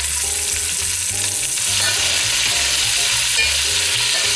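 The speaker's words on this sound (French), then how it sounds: "on va commencer par colorer le veau sur toutes les faces" Veal pieces browning in a generous amount of hot oil in a pot, giving a loud, steady sizzle and crackle with occasional stirring, close up and with no talk.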